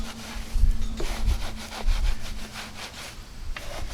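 Detail brush scrubbing a car wheel behind the brake caliper, rapid back-and-forth bristle swishing with a wet rubbing texture, close and continuous, with a faint steady hum in the background.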